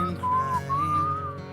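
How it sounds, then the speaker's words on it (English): Whistling of a gliding, wavering melodic line, clear and fairly close, with a low steady background hum underneath. "We just talked right over the whistling."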